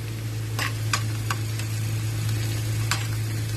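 Onions fry in a pan with a steady sizzle under a low constant hum, punctuated by a few sharp scraping stirs of a utensil against the pan.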